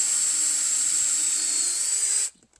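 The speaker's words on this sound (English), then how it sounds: "So this is my drill. We're going to start anywhere on it." A power drill bores into a shiitake mushroom log, giving a steady, loud, high whine that holds evenly for about two seconds and then stops abruptly.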